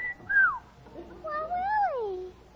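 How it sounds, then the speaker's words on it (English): A man gives a pair of rising-and-falling wolf whistles at close range, one short and one longer, clear and fairly loud in a quiet scene. "you haven't whistled at me like that since we were married"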